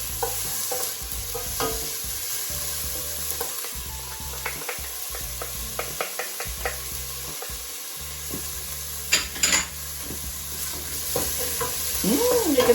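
Ginger frying in a tablespoon of extra virgin olive oil, a close continuous sizzle broken by repeated scraping and stirring clatter from a utensil against the pan, without speech.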